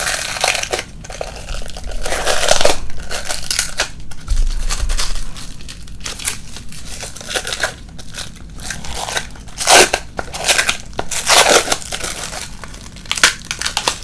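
An acrylic skin art bowl is unwrapped by hand, with close, crisp crinkling and crackling of wrapping that comes in repeated bursts and short pauses.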